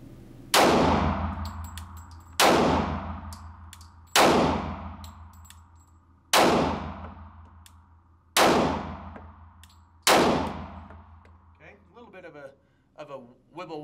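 Pistol shots fired at a target at a shooting range, six loud sharp reports at roughly even intervals of about two seconds, each followed by a ringing decay.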